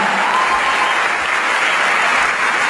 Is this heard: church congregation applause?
yes